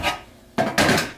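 Broccoli, mushrooms and zucchini being chopped on a board: a few close, sharp knife thuds and cutting strokes with short pauses between them.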